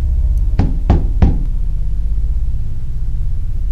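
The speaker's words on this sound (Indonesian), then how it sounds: "suara ketukan pintu terdengar." Three loud, evenly spaced knocks on a door at night, heavy and close, over a low steady rumble in a horror story setting.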